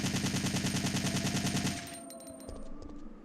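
A rapid, continuous burst of gunfire empties a magazine in a Resident Evil game, loud and close for under two seconds before stopping abruptly, leaving a few faint clinks and echoes.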